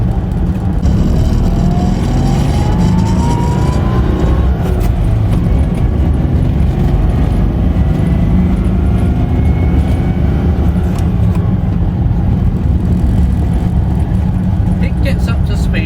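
A 1978 Citroen Dyane drives and accelerates, its small engine giving a loud, steady drone that holds close and constant throughout, with wind and road noise mixed in.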